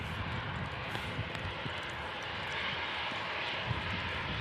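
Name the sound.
airliner engines at Manchester Airport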